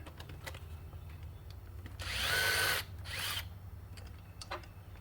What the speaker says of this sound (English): All right, let me try unbolting it, see what happens.